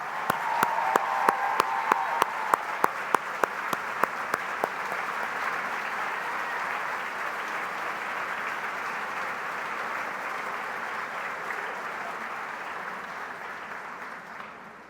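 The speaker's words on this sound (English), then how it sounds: "please stand so we can give you your well-deserved applause." Sustained audience applause at an awards ceremony for romance writers, broad and steady from a large crowd, with a few sharp nearby claps standing out early before settling into an even roar.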